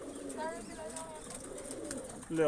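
Pigeons coo softly in low, murmuring bursts throughout from inside a pigeon loft, with a steady background hum and a brief louder noise at the end.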